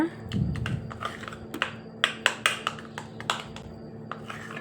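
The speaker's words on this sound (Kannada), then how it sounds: "ಸ್ಪೂನ್ ಸಹಾಯದಿಂದ ಇದನ್ನ ಚೆನ್ನಾಗಿ ಮಿಕ್ಸ್ ಮಾಡ್ಕೊಳ್ಳಿ" A spoon stirs mixed fruit jam into a paste in a bowl while making honey cake, producing a run of sharp, irregular clicks and taps up close, with no talking.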